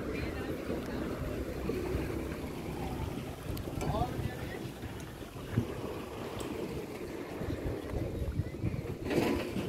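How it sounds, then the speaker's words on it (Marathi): Boat arriving on a lake near Herrenchiemsee, a faint low rumbling engine and water wash under wind noise, fairly distant and steady with a few small knocks. "बोट आलेली आहे, आता इथून दुसऱ्या आयलँडला जाणार"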